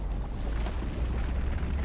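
Rock explosion in the video game RuneScape: Dragonwilds, a dense rumbling blast with a low, sustained roar that stays loud and heavy for nearly two seconds, with no talking.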